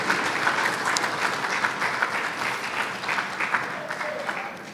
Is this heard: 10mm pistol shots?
no